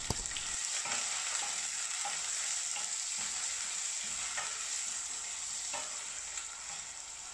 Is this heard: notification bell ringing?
no